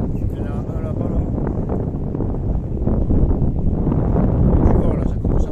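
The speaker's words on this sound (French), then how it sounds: "Du vent, là, ça commence à monter." Wind gusting along the coast road near Marseille buffets the microphone with a continuous low rumble that swells slightly louder toward the end, steady and close throughout.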